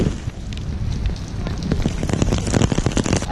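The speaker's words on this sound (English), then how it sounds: "And it's even raining in the Christmas tree." Steady rain falling in Lisbon on a murky grey day under a large outdoor Christmas tree structure, a dense continuous patter with sharper drip impacts growing busier toward the end, close and fairly loud.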